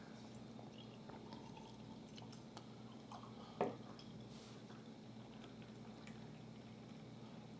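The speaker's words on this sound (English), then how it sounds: "Let's pour it in here." Sapporo beer poured into a glass gives a faint, steady fizzing and gurgling hiss with a brief louder splash midway, heard close and quiet with no talking.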